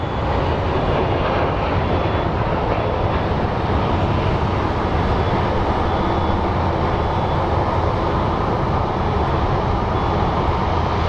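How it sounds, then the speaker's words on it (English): An American Airlines jet airliner taxis at Phoenix Sky Harbor airport in extreme heat, giving a constant loud broadband engine roar with no breaks. "And so is the American Airlines that is taxing out."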